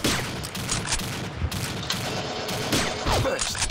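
Gunfire from a first-person shooter clan war rattles in a dense, continuous barrage of loud cracks and bursts for several seconds.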